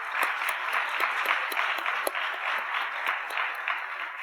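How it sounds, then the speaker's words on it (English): An audience applauds at a Montgomery College Holocaust commemoration, a steady, dense crowd clapping with sharper individual claps standing out, sustained evenly throughout. "So maybe we can give her applause for that one as well"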